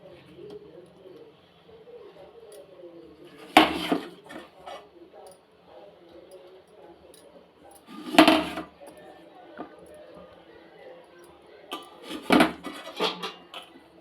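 Dried fish goes into a simmering pot of South Indian dried-fish curry. Three separate bursts of clattering utensils and pot sounds stand out over a quiet kitchen background with faint bird cooing.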